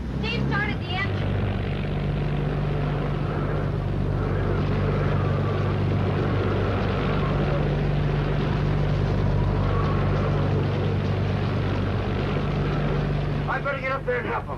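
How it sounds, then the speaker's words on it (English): A boat engine starts during a hurricane and keeps running as a steady low droning hum beneath the scene, with voices talking at the start and end. "Steve started the engine."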